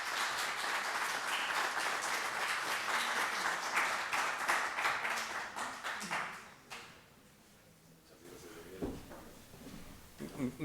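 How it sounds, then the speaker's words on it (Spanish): An audience at a talk bursts into loud applause for a speaker, the clapping dense at first, then thinning out and dying away before a voice begins to speak. "les pido un fuerte aplauso"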